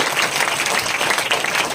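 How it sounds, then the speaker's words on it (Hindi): A church congregation claps loudly and steadily for God's glory during a service, a dense, continuous wash of many hands with no pauses. "जोरदार ताली बजाएंगे परमेश्वर की महिमा के लिए"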